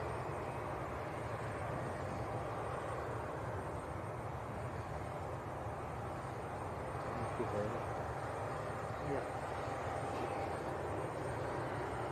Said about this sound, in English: KLM has actually taken a full-length backtrack.